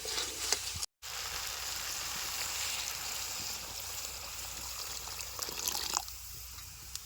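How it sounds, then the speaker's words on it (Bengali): Water poured into a pan of potatoes and peas fried with spices for ghugni, a steady loud sizzle and hiss with a brief silent break near the start and a softer trickle toward the end. "এবার পরিমাণ মতো জল দিয়ে দেবো"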